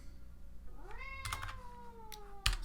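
A house cat meows indoors, one drawn-out rising-and-falling meow in a quiet room, followed by a few faint clicks and a brief tap near the end.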